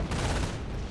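A machine gun bunker in the Company of Heroes video game fires in a dense burst of rapid gunfire, loud and continuous for about a second.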